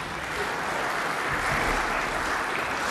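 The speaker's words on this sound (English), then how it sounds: "That was a very half-hearted applause there." Thin, half-hearted audience applause at a talk, a steady wash of scattered clapping lasting a few seconds with no voices over it.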